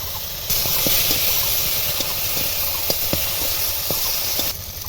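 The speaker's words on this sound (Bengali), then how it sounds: "একটুখানি জল দেব, দিয়ে মশলাটা ভালোভাবে কষিয়ে নেব" Spice paste for a vegetarian dhokar dalna with matar dal hisses and sizzles steadily in a hot pan after a splash of water, a broad continuous fry with faint scattered clicks and crackles throughout.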